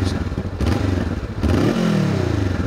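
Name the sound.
Honda CBR500R motorcycle exhaust popping on deceleration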